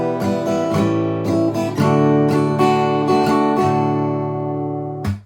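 Strummed guitar chords play the second line of a song up close, a steady rhythm of bright strokes sustaining and decaying, ending with a quick muted scrape.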